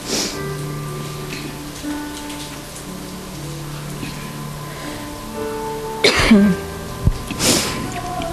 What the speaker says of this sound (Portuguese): Eu tô tossindo, gente